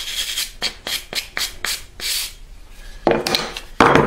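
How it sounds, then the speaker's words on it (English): A file card scrubs across sandpaper in a woodworking shop during a custom electric guitar build: a quick series of short, rhythmic raspy strokes, close and fairly loud, followed by a couple of harder, longer scrapes. "I just using my file card on my sandpaper."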